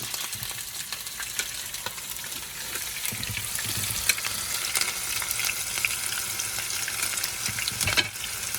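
Half a white onion frying in a pan over medium heat for Congolese rice, giving a continuous close sizzle with occasional stirring clicks and a brief trickle of water.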